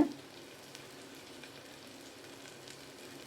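Shallots, curry leaves and chilli sautéing in a pan for beetroot stir-fry, a quiet, even frying hiss that runs unbroken after a brief knock at the start.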